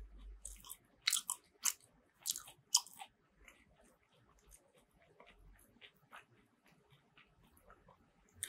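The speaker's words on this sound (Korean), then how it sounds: "마지막 한 입." Close crunchy bites into an air-fried vegetable croquette filled with peas, a few sharp crisp crunches early, then softer quiet chewing that tapers off.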